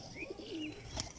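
Pigeons around their loft and nest boxes coo softly, with a few brief chirps and a faint rustle, all quiet and set against a low background.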